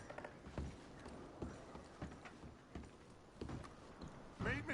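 Hoofbeats of pack horses in the Red Dead Redemption 2 video game, an irregular clip-clop of steps with faint creaks of gear, ending with a brief voice near the close.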